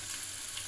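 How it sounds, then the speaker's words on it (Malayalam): Ginger sizzles in a frying pan until golden brown, a dense steady hiss filling a brief moment with no pauses. "നല്ല ഫ്രൈ ആയിട്ട് അതൊരു ഗോൾഡൻ ബ്രൗൺ കളർ വരണം"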